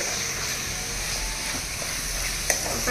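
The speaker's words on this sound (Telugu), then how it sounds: "అల్లం వెల్లుల్లి పేస్ట్ పచ్చివాసన పోయేంత వరకు వేగించాలండి." Ginger-garlic paste frying in oil for chicken biryani, a continuous crackling sizzle with faint stirring and a small clink near the end.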